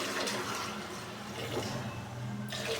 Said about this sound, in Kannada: ನೀರು ಹಾಕ್ಕೋತಾ ಇದ್ದೀನಿ